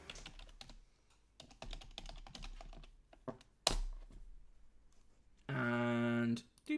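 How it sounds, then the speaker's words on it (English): Rapid clicking of fingers typing on a computer keyboard while entering chat messages, with irregular bursts of keystrokes through the first few seconds, mostly alone, and a louder sustained tonal sound near the end. "I'm having a mare with typing things in the chat today."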